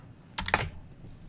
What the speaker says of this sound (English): I've got dice galore here in this bag, but dice, okay? Pour these out here.